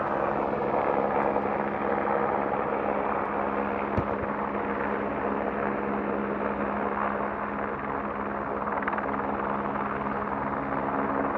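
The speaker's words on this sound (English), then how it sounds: "Helicopter" Helicopter flying overhead near Scotland's Moray Coast, a steady droning rotor and engine hum at moderate distance, continuous throughout with no voices, holding fairly even in level.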